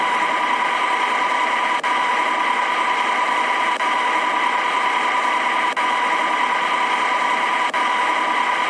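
A torsion testing machine runs with its cover closed, twisting a shaft in a steady mechanical hum with a faint whine and soft regular ticks about every two seconds, constant in loudness throughout.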